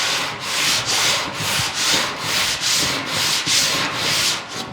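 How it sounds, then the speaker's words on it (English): Sandpaper rubs by hand across a warped steel panel on a 1940 Ford-inspired car build, in steady back-and-forth strokes about twice a second, loud and close with no talking. "Let's hit it with some sandpaper and see what shows up."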